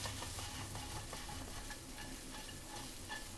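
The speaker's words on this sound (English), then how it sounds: "Onion and garlic in. Mix this well a bit." Onion and garlic frying in oil while being stirred in a pan, a steady low sizzle with soft scraping strokes throughout, close and even, no voices.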